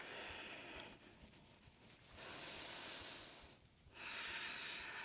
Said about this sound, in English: Take 5 rounds of breath in here.